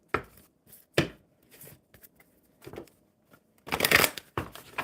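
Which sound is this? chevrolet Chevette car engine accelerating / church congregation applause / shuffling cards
shuffling cards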